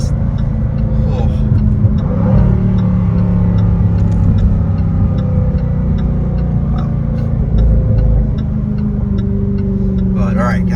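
A Jaguar F-Type R's engine revs and pulls hard under acceleration, loud and close from inside the car, a steady strong drone with a voice briefly over it.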